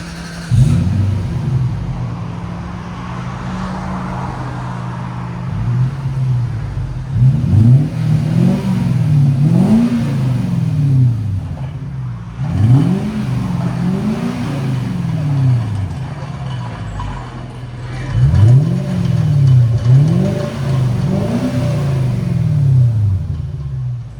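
The 4.3L V8 exhaust of a 2006 Lexus SC 430 with a muffler delete burbles at idle, then revs sharply in several bursts, each rev rising and falling, loud and close.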